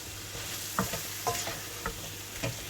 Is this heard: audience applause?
no